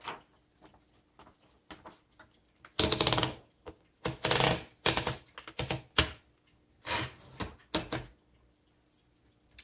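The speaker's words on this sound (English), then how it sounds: "let's do a typing demo and see what it's like" Typing on a 1960s Royal Tab-O-Matic manual typewriter, loud close mechanical clacks in irregular bursts of rapid keystrokes, separated by short pauses, with no talking over it.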